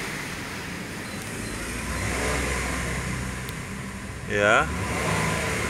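A 2014 Mazda CX9 with a 3.7L engine and an HHO fuel saver installed revs as the gas pedal is pressed. The engine rises from a steady hum to a louder, higher run near the end, and someone speaks briefly over it.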